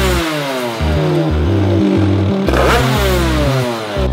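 A tuned 50cc moped engine revs hard and loud, close by, in repeated stepped bursts. Its buzzing pitch climbs and drops between throttle blips, with a sharper rasp midway.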